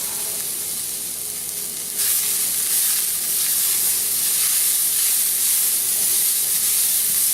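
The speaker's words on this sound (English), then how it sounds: "We're going to add the celery now." Celery hits a hot pan of onions with browned bits on the bottom, setting off a loud, steady sizzle that jumps up after a couple of seconds and keeps hissing evenly, with no talking.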